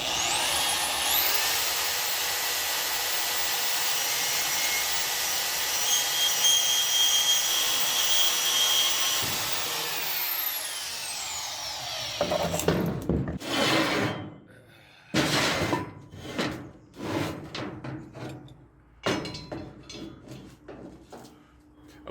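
A saw cuts metal tube for a 1998 Dodge Dakota rear air suspension, a loud sustained whining grind that runs down and stops, followed by a string of shorter bursts of cutting with pauses between.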